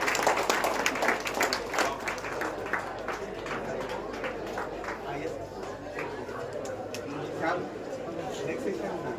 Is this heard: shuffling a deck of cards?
no